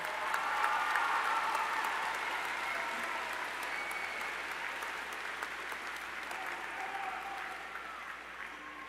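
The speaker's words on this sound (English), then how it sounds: "Graduates, please join me in offering a well-deserved round of applause and appreciation" A high school commencement audience applauding graduates, a long even burst of many people clapping in a large hall that gradually softens over about nine seconds.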